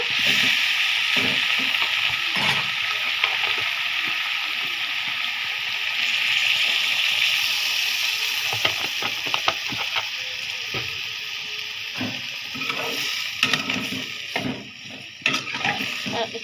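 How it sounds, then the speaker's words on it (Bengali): Vegetables fry in a pan after a splash of water is added, in a Bangladeshi home kitchen. A steady, loud hiss and sizzle runs throughout, broken later by scattered clicks and scrapes of stirring. "ভাজিটার মধ্যে আমি একটু পানি দিয়ে দিব"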